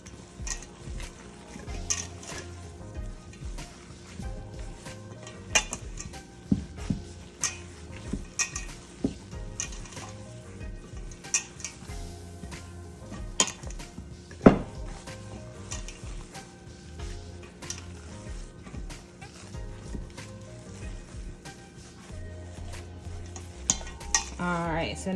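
Close, wet squelching and scraping come from meatloaf ingredients with onions being mixed by hand in a bowl. The stirring is irregular and continuous, with occasional clinks of a utensil against the dish and a faint sizzle in the background.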